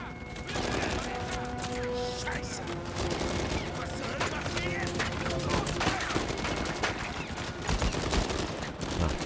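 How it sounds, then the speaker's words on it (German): Rapid bursts of gunfire from the video game Uncharted 4 crackle almost nonstop, loud and dense with overlapping shots layered under game audio, while a player talks over the action. "Blind feuern wollen wir natürlich nicht. Versuchen mal hier einen gezielten Schuss abzugeben."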